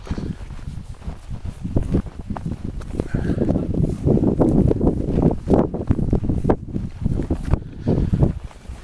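Wind gusts over an exposed mountain summit at about 4,000 feet in cold weather, a steady broadband roar with rumbling buffeting against the microphone, loud and continuous throughout with no talking.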